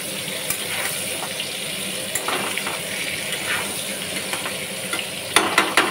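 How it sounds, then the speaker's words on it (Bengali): Pieces of pointed gourd cook in a pan with a steady, moderately loud hiss and light crackle. A few sharper clicks and knocks punctuate it near the end. "পটলগুলো দিয়ে দিই, কি হবে আর ভাজা করে"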